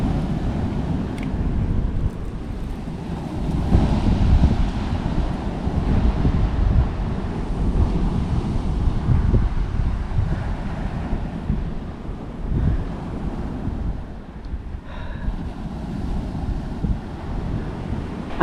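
Strong wind buffets the microphone over the steady roar of rough sea waves breaking at a beach, a loud, continuous wash with no voices.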